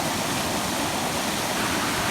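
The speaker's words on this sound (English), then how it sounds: "There's a little waterfall here." Flood water from a rain-swollen creek pours over a bridge like a small waterfall, a loud, close, unbroken rushing roar with no voices.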